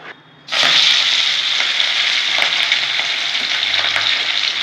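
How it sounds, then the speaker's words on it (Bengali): Katla fish pieces seasoned with salt and turmeric hit hot oil in a pan with a sudden loud burst, then settle into a sustained, close, crackling sizzle with no voices. "লাল লাল করে মাছগুলো ভেজে নেব।"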